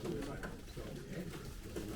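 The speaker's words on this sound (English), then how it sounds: "A lot of birds here." Pigeons held in numbered cages at a pigeon auction in New Jersey give soft, low cooing, a quiet, steady murmur under hall background noise and nearby talk.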